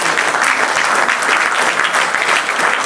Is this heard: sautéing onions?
no